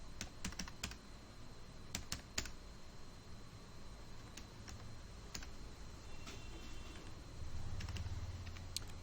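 Typing on a computer keyboard while entering numbers and a max formula into an Excel spreadsheet, with steady clicky keystrokes in irregular bursts, close and clear, and no talking.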